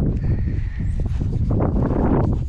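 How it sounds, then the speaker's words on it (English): A young horse snorts and shifts around up close, with heavy breaths and shuffling hoof movement, loud and continuous, no talk. "This is our baby horse."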